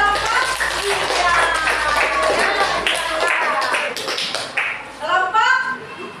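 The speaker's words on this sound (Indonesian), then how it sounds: "tepuk tangan untuk kelompok 3" Children in a sixth-grade classroom clap together in a brisk, patterned rhythm for a class group, with young voices chattering over and through the clapping.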